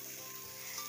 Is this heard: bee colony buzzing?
no